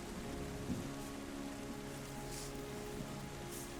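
Rain falls in the video game Terra Nil as a soft, even patter, faint and continuous, with a few brief brighter splashes and no talking.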